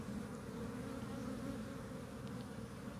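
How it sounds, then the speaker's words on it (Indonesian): Honey bees swarm and fly around a hive box in an apiary, giving a steady, dense buzzing drone that holds even throughout, close and continuous with no voices. "Karena hampir lebahnya ini hampir masuk. Ini dari luar saja berterbangan masih banyak sebenarnya."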